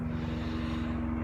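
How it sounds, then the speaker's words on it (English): Helicopter flying overhead near the ocean, a steady loud rotor drone with a fast rhythmic low thump and a sustained hum throughout, no voices. "And that is a helicopter."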